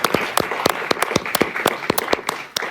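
An audience claps in praise to God at a church gathering in Kinshasa, giving irregular sharp claps at moderate loudness, close by and uneven, with no cheering voices standing out.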